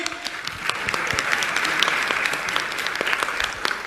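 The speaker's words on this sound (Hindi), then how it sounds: "तालियां तो बजाओ जोर से।" Dense, sustained applause from an audience at a Jain religious discourse session, loud and steady throughout with many overlapping claps and no talking.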